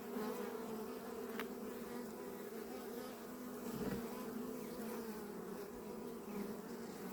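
Honeybees hum during a hive inspection, a low, steady, even drone with faint flickers of individual bees passing close.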